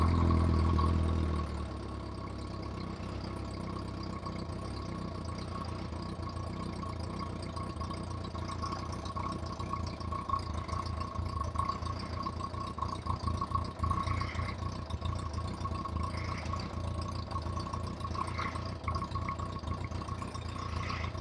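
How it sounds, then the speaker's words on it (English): A motorcycle with a battery or stator charging fault starts after a louder opening burst, then settles into a steady, close idle hum that runs unbroken to the end. "Bike starting."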